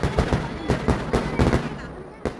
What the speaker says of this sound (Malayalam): ഇവിടെ വെടിക്കെട്ട് നടക്കുന്നുണ്ട്